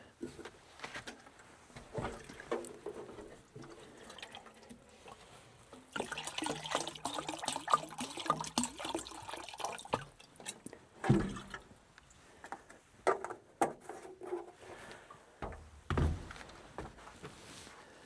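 Water is poured into a dog's bowl in a quiet kitchen, giving faint, intermittent splashing and trickling with a few soft knocks.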